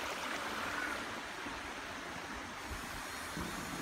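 A forest stream in Chiapas flows beneath a log laid across it as a footbridge, giving a steady, fairly faint broadband rush of water with no voices.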